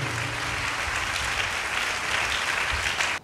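A church congregation breaks into loud, sustained applause, many hands clapping densely together for several seconds before stopping abruptly.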